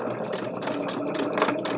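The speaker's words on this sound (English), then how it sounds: "I'm going to pass this through my sewing machine" Sewing machine stitching a travelers notebook pocket insert in white thread close to the margin, a steady continuous mechanical whir with a fast even buzz running at a constant level throughout.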